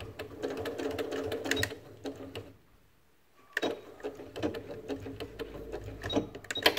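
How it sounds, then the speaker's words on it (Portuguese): A sewing machine rattles through a steady run of stitches, falls silent for a moment, then starts again with a burst of rapid stitching for a reinforcing backstitch. "meio centímetro antes do final, eu paro a costura com reforço"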